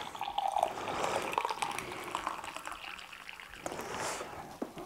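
Hot water poured over mashed strawberries and sugar in a pot on a burner gives a steady liquid trickle and splash, fairly close and moderate in level, with no talking.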